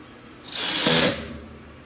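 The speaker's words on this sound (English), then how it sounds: "The brrr noise is the clutch kicking in." Cordless power drill driving a screw into a board, a single close whir lasting about half a second that ends in a buzzing rattle as the clutch slips.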